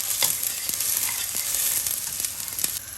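Spices being stirred into sizzling onion, garlic and tomato in a pan for palak chicken, a steady frying hiss broken by repeated scraping strokes of the spoon, close up with no voices.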